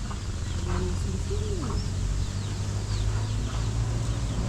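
A fierce mother hen out with her chicks gives soft, low clucks and short calls. Faint high chick peeps come and go over a steady outdoor hum with no speech.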